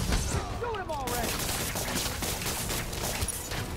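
Bursts of gunfire in the video game Marvel's Spider-Man, rapid rattling shots layered over game music and effects throughout.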